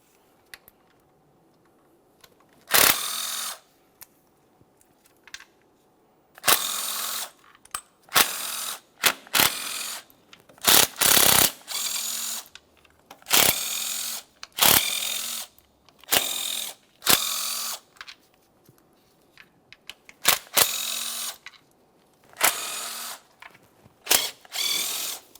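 A power tool loosens Mazda 3 2.0L valve cover bolts in short, loud ratcheting bursts of a few seconds each, separated by quiet pauses, about a dozen runs in all.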